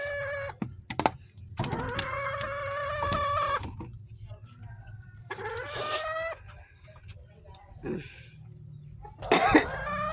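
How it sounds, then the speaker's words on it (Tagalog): A hen with a cold clucks and makes several short, raspy coughing and sneezing sounds, spaced irregularly, close by with faint background noise. "Tinamaan ng ubo at sipon si Inday"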